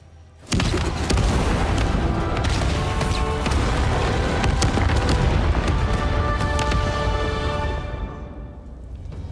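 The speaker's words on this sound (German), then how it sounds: "Habt ihr Explosion gehört?" A sudden loud boom from an explosion in the video game Avatar: Frontiers of Pandora erupts and rolls into a long, dense rumble of crackling debris that slowly fades.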